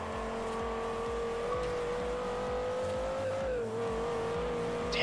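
Race car engine in Forza Horizon holding a steady high whine with a tire squeal running alongside it, loud and continuous throughout with no talk.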